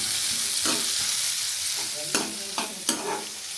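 Mutton chops with chillies fry in a pan while being stirred, giving a steady close sizzle with several sharp scraping strokes toward the end and no voices.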